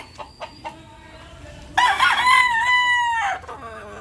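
A rooster crows loudly and close by, one long drawn-out call after a few soft clucks and scuffs.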